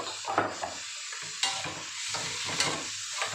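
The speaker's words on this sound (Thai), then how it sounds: "คั่วจ้ะคั่ว" Minced pork and glass noodles stir-fried in a wok with basil, a soft steady sizzle broken by several scraping spatula strokes, close and without talk.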